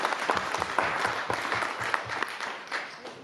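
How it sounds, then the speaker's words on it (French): Audience applause at a round-table event on artificial intelligence in the city, held at a university, with a steady wash of clapping from a crowd that holds through the whole stretch and fades slightly near the end. "Allez, on peut applaudir."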